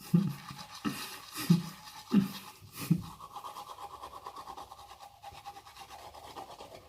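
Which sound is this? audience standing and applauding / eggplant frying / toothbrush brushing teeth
toothbrush brushing teeth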